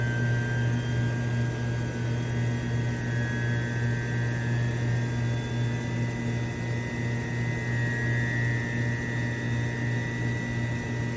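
A laboratory centrifuge spinning up toward 10,000 RPM, a steady close whine with a strong low hum and rising high tones, constant and unbroken.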